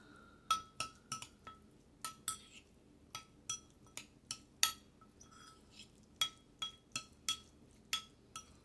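Repeated light clinks of a utensil striking a bowl as lime juice is mixed into a summer dip, about a dozen distinct taps in an irregular rhythm, close and fairly quiet with no talking.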